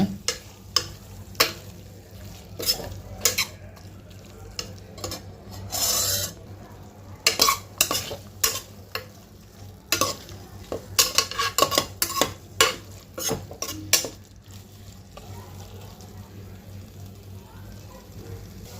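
Tomatoes being stirred and frying in a pan for Tamil-style mutton curry, with repeated scraping spoon strokes against the pan in irregular bursts over a low steady hiss, close and moderately loud.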